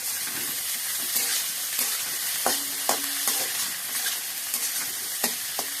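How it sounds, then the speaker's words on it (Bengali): Onion and potato frying together in oil for a katla fish-head, bottle gourd and potato dish, giving a steady close sizzle broken by sharp scrapes and clacks of a spatula stirring the pan, with no talk. "পেঁয়াজ আর আলুটা একসাথে ভাজা ভাজা হয়ে যাবে"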